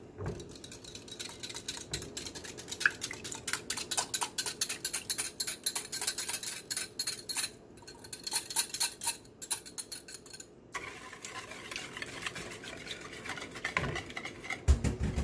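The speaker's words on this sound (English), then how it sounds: "I'm just going to whisk these a little bit" Four eggs whisked in a bowl for apple cinnamon bread pudding, a steady run of rapid clinking taps of the whisk against the bowl, close and fairly loud, with a brief pause midway and no talking.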